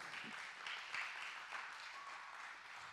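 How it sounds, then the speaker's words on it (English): A church congregation claps hands together for the Lord, a steady, moderately faint patter of many hands sustained throughout with no voices standing out. "Give the Lord a big hand clap."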